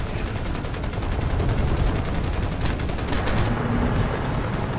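Sustained machine gun fire from the PC shooter Crysis, rapid dense bursts forming a loud continuous rattle with some heavier crackles through the middle, with no talk over it.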